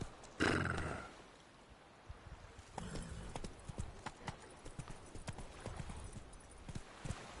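Hooves of Roach, a horse in The Witcher III, clip-clop at a walking pace after a short snort or whinny near the start, moderately close and fairly quiet, with no talk.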